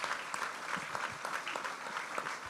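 A church congregation claps in praise to the Lord, steady dense applause filling the room close by, with a faint voice or two underneath.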